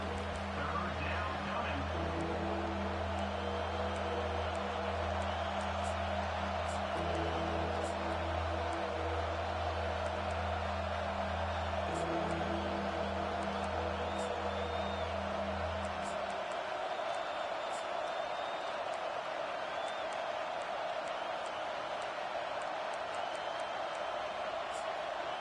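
Home crowd roaring in a college football video game, Nebraska against Alabama, as the defense faces third down; a steady, dense wash of stadium noise runs throughout, with a low droning layer that drops away partway through.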